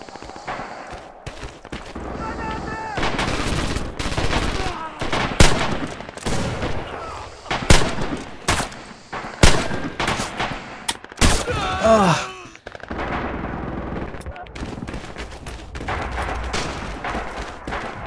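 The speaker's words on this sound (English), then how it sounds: "The guns." Gunfire in Red Orchestra 2, a WWII shooter game, with dense bursts of rifle and machine-gun shots cracking near and far in irregular clusters, with a brief lull around the middle, under steady battlefield rumble.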